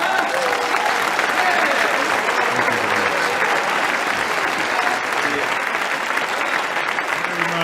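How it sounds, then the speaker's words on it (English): Sustained audience applause fills a lecture hall after a talk on UFO evidence, a dense steady wash of many hands clapping at even loudness throughout, with faint voices mixed underneath. "can we have another round of applause for Stanton Friedman?"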